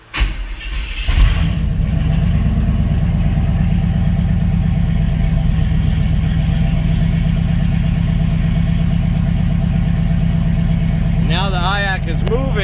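An S10 engine with a Holley Sniper EFI fires up and settles into a loud, steady, close idle that runs throughout, with a voice talking briefly near the end.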